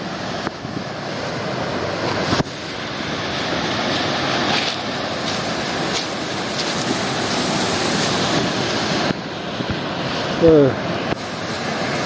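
Rushing water at the Curug Kalong waterfall in Pagar Dewa, West Lampung, makes a constant broad roar mixed with wind buffeting on the microphone, with a brief voice near the end.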